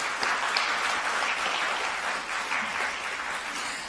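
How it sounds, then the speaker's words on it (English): An awards ceremony audience at a film festival applauds the jury, a steady wash of moderate clapping held for several seconds with no speech. "Let's have a round of applause for our jury."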